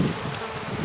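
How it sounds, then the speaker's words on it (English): Honey bees from a late-season split colony buzz around an opened hive, a close, continuous droning hum lasting under a second. "expecting to see bees hanging onto the bottom here"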